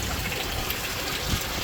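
Water splashing and trickling from a spray bar on a temporary fish pond setup, a constant close hiss of falling water with no pauses or voices.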